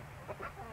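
Highline Brown and Olive Egger hens in a backyard flock cluck softly a couple of times, faint against steady outdoor background noise.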